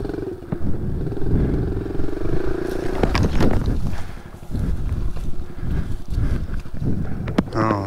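A motorbike engine running and revving during a kickstart riding lesson on slippery ground, a loud close rumble that rises in pitch midway, with clattering bumps and brief wind noise.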